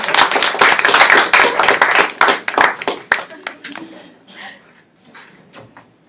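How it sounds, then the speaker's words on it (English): A panel-event audience gives a round of applause, loud and close, with individual claps clearly distinct; it rings out strongly for a few seconds, then thins to scattered claps and fades toward the end. "Please give a round of applause."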